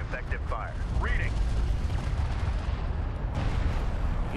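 Continuous gunfire and artillery rumble in the desert warfare game Homeworld: Deserts of Kharak, a dense, sustained battle din with a heavier impact near the end, while someone talks over it.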